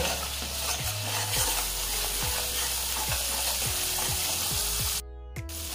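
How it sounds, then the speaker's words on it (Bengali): Spices for a spinach mung dal being stirred and fried in a pan, with a steady sizzle and a rhythmic scrape of the spatula roughly every second, close and alone. "এবার এই সমস্ত মশলাগুলো ভালোভাবে কষিয়ে নেব।"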